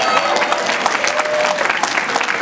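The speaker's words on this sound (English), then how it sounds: "So give yourselves a round of applause." A New York City street crowd gives a sustained round of applause, dense clapping holding steady throughout the short stretch.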